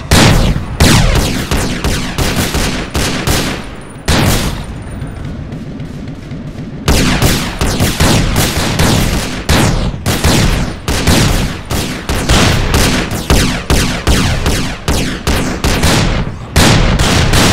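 Relentless gunfire from GTA San Andreas as gang members are shot, dense rapid volleys of loud close shots with a brief quieter lull midway before the barrage resumes.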